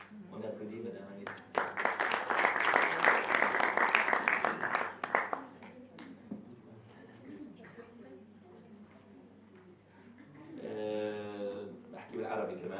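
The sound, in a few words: audience applause for Madame Agnès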